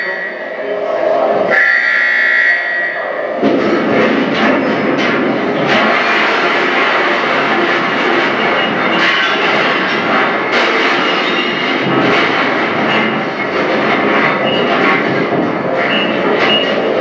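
An earthquake simulator shakes a small living area, giving a loud, continuous roaring rumble with rattling and clattering throughout and a brief buzzing tone near the start.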